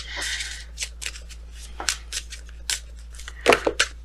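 A tarot card deck being shuffled by hand, with quick riffling bursts of crisp card flutter and slaps, several distinct bursts ending in a louder clatter as cards spill out.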